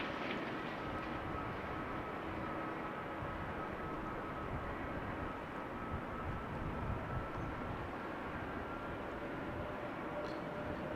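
A Surinam Airways Boeing 777 on approach to runway 06 at Amsterdam Schiphol gives off a faint, steady distant jet rumble and roar that holds evenly throughout.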